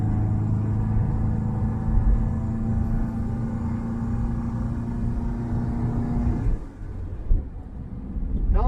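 Triumph Mayflower engine droning steadily on a road test, a low rumbling hum from inside the car that dips briefly as the gear changes, then picks back up.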